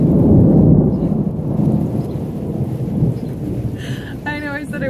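Thunderstorm with steady rain near a horse farm, a broad loud rumble of rain and thunder throughout, with a short burst of higher, tonal sound near the end.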